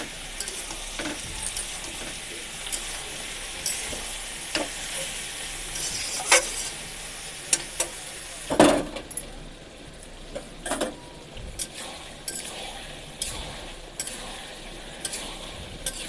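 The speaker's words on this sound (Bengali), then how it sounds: "ভালো করে নাড়াচাড়া করে নেব, হালকা আঁচে ছেড়ে দেবো" Cabbage and potato curry being stirred in a pan over low heat, with a steady sizzle broken by repeated sharp scrapes and clinks of the spoon against the pan, close and alone.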